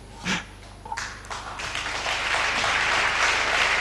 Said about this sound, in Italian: Sei il primo personaggio che fa scattare l'applauso ogni risposta.